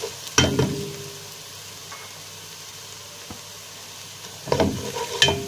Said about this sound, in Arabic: احنا هنا كده بنشوح الثومه مع البصله